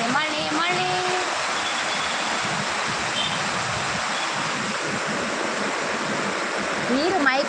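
Heavy rain pours down in a steady, dense, loud hiss that fills the whole stretch, with a voice briefly heard near the start and again at the end.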